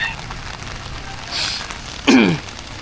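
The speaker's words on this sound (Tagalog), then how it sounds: "Lakas ng ulan, ang bagyo." Heavy rain pouring during a typhoon, a loud steady hiss of rain on surfaces throughout, with a brief swell midway and a sharp rattling burst near the end.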